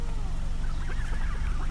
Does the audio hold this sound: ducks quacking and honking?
yes